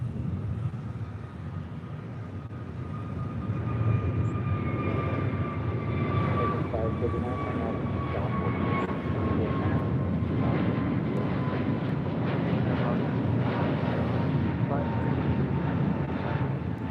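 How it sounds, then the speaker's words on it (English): An American A321neo airliner departing LAX builds to a steady, broad engine roar that holds throughout, with faint voices in the background. "Next departure is at American A321neo heading to La Jolla, flight 265."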